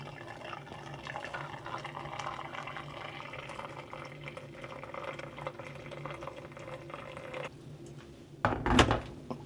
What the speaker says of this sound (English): I also have to pour the hot water inside